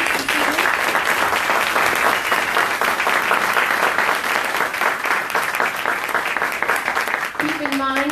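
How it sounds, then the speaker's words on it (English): Sustained audience applause for candidates at a district candidates' forum, dense steady clapping filling the room, with a short voice starting up near the end. "Again, one more round of applause for our candidates."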